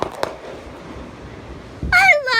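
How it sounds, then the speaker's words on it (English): Fireworks go off nearby at a family celebration: a couple of sharp cracks, then a loud whistling burst that rises and crackles near the end. "I love these fireworks"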